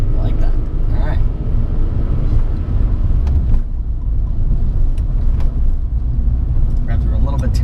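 A Volkswagen Beetle with a manual gearbox rumbles at low revs, a steady deep engine drone heard from inside the car while people talk over it.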